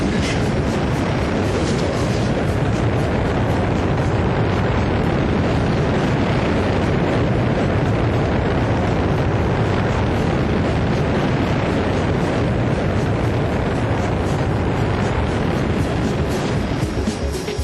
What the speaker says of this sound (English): Once the Ares 5 has reached orbit, the Ares 1 will launch the crew into space.